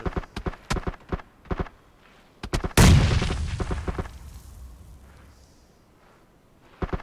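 A grenade explodes in the PUBG battle royale game with a sudden loud blast and a long rumbling decay. Sharp gunshots and footstep-like taps come before it, and a few more follow.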